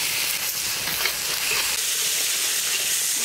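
Spices and cumin paste sauté in a pan with a steady, close hiss and soft sizzle, with no voices.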